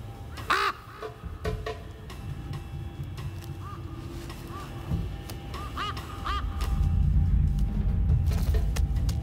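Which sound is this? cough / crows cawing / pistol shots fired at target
crows cawing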